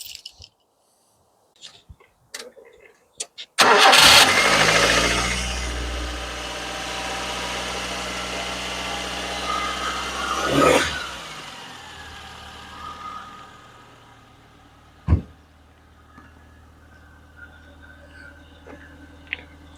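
After a few clicks, the engine of a 1989 Nissan Sunny N13 cranks and catches, roaring loudly, then settles into a rough idle with a blip of revving partway through.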